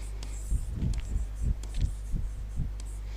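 Chalk or marker strokes from a teacher writing a maths question on a board in a classroom, a run of about six short scratchy bursts in a steady rhythm over a low electrical hum.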